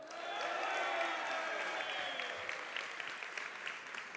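An audience applauding at a gala event, a dense, steady clapping from a large crowd that fills the room and eases slightly toward the end.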